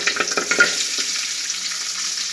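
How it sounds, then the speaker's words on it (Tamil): Onions and curry leaves frying in a pan for bitter gourd poriyal, a loud close crackling sizzle with quick stirring clatter at the start settling into a steady hiss. "ஆனியன்லாம் நல்லா வதங்கிட்டோம் கருவேப்பிலை கொஞ்சம் கறியிருச்சுங்க"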